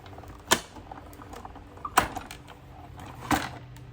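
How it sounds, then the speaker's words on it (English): A hand-cranked die-cutting machine feeds a small circle die through for a card, giving three sharp mechanical clunks with creaking between them, close by and with no talk. "And then you're going to run him through the machine"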